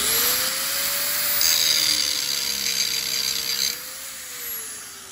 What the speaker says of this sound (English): Now we're going to start with a low carbon steel, this horseshoe right here, and we're going to hit it with the grinder.